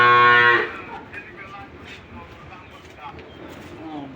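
A black dairy cow at a farm cattle sale in Sylhet gives one loud, close moo at the very start, then a low murmur of background noise continues.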